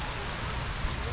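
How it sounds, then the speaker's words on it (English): Rain falls at Flamingo Gardens in Florida: a steady, broadband patter and hiss of rain on surfaces, close and continuous, with people speaking faintly beneath it. "We're just gonna have to accept that being rained on is our fate."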